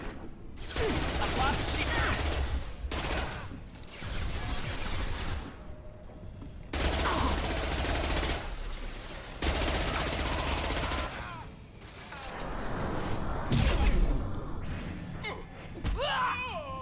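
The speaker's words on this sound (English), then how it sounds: "The Blue Suns that are shooting at us?" Repeated bursts of automatic gunfire from Blue Suns mercenaries in Mass Effect, loud sustained volleys separated by short pauses, with voices talking beneath the shooting.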